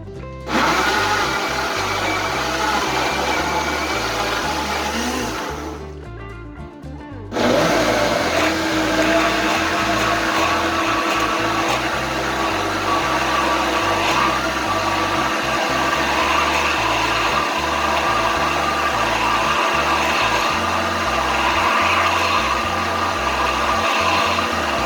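An electric mixer beats potato pancake batter of potatoes, salt and a cup of milk, a steady loud whirring drone that runs almost the whole time with one brief pause partway through, no talking.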